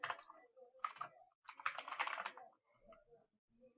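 Computer keyboard typing: several quick bursts of close, crisp key clicks with short pauses between them, alone with no talking.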